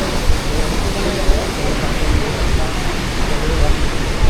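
Marleshwar waterfall, a monsoon cascade among misty hills, roars as a loud, steady broadband rush, with small falls spread across the slopes.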